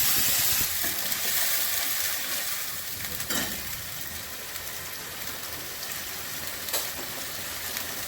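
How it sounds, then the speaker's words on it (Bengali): A paste of onion, garlic, tomato and ginger hits hot spiced oil with a loud, dense, rain-like sizzle that holds steady and close, with a couple of brief scraping stirs. "এবার আমি পেঁয়াজ, রসুন, টমেটো, আদা যে বাটাটা আছে ওটা দিয়ে দিচ্ছি।"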